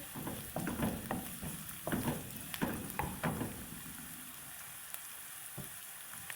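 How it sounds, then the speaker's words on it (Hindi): Onions stirred into frying noodles in a pan for Knorr masala veg noodles, a steady close sizzle broken by repeated scraping stirs that fade toward the end, no talking. "अब हम इसमें डाल देंगे प्याज। प्याज को थोड़ा सा मिक्स कर लेंगे इसमें।"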